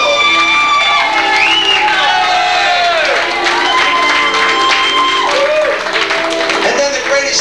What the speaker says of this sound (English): Special round of applause for Joan's brother, ladies and gentlemen, Mr. Bill Foley.